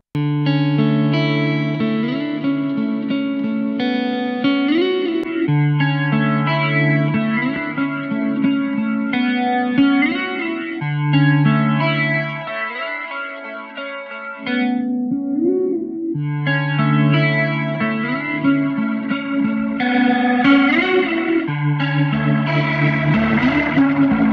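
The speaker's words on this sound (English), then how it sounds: "so you can hear it's got this awesome chorus effect" A sustained organ-like instrument plays chords through a Leslie-style rotary speaker plugin (Universal Audio Waterfall), with a swirling, wavering rotary chorus effect, loud and continuous with brief pauses between phrases.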